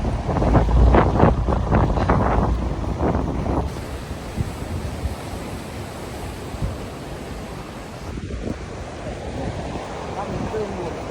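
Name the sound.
waves and wind at the beach after a run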